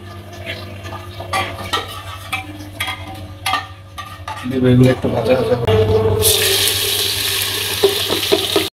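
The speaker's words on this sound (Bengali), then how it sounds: "পেঁয়াজটা সুন্দর করে ভেজে নিচ্ছে" Onions frying in a pan while being stirred, starting with scattered clinks and knocks and then becoming a loud, continuous hiss of sizzling that builds and holds, with people talking over it.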